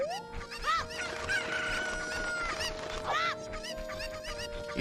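Chickens cluck and squawk in a busy overlapping flock in the video game Ocarina of Time, with sharp repeated calls and a rooster-like crow rising over a backdrop of game music.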